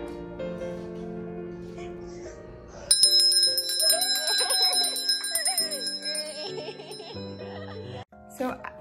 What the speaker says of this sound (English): open your eyes and ring the bell so we can celebrate